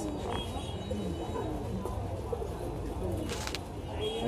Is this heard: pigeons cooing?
yes